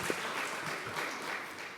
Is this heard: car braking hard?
no